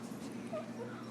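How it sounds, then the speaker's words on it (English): A litter of eight Brittany puppies whimpering and yipping, several thin high cries rising and falling in quick succession, close and fairly soft over a faint background hum. "These are our 8 Brittany puppies."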